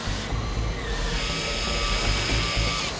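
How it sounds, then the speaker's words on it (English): A power drill bores out rivets in a metal sheet on an 18-wheeler trailer, a steady high whine with grinding metallic texture running continuously and fairly loud, no talk. "The officers begin by drilling out the rivets on one sheet of metal."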